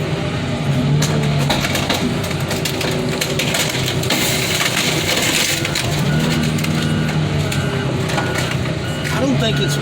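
A garbage truck's rear packer crushes a Ford Mustang car with loud, continuous grinding and crunching, engine noise underneath and a person talking over it.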